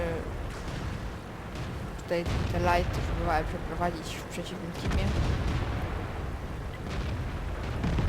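Deep booming tank cannon shots sound through a dense game soundtrack of rumble and noise, while someone talks over it.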